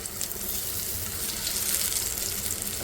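Aloo tikki shallow-frying in a little oil on a tawa, giving a steady, close, hissing sizzle that holds evenly throughout.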